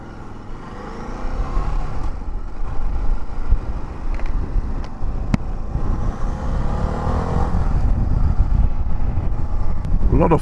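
A Ducati Desert X 950 adventure motorcycle is ridden, its engine droning steadily and close for the whole stretch, with wind rush over it and the note rising slightly toward the end.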